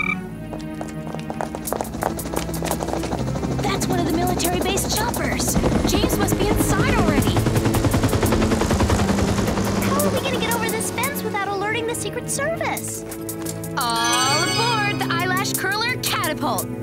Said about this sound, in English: Choppers!